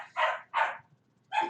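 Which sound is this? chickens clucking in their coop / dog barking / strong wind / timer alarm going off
dog barking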